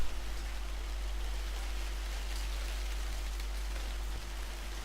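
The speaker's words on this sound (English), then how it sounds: "Rain pelted the figure from all sides, and the wind stirred the edges of their worn traveling cloak" Steady rain with wind on a moor at night in a visual novel game, a continuous even wash of pattering noise at moderate level with a low rumble underneath, no voices.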